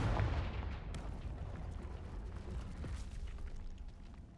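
A Confringo fire spell explodes in Hogwarts Legacy, a deep booming blast that opens the clip loudly and decays into a low rumbling tail.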